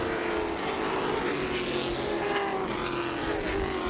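Race cars run single file around a high-banked oval at Southern National Motorsports Park in a Charger race. Engines drone steadily from a distance and blend into one continuous roar.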